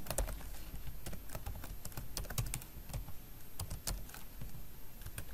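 Close, quiet typing of code on a computer keyboard, with rapid irregular key clicks that run steadily throughout.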